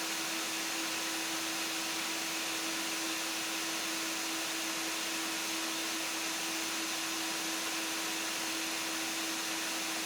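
A Sirena home cleaning system runs continuously, blowing air through an attachment to inflate an inner tube, producing a loud, steady motor roar with a constant whine and no pauses.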